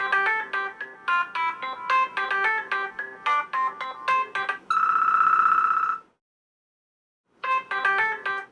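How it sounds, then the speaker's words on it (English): Ringtone previews on a Doro 7030 mobile phone, bright electronic melody notes in a quick repeating pattern, then a sustained tone, a short silence, and the tune starting again, loud and close with no talk. "I can use the up and down arrows to hear previews of the other ringtones"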